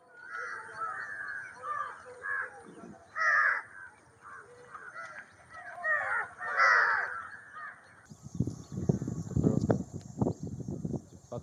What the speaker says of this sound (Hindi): चहचहाट है वो यहाँ पे सुनाई दे रही है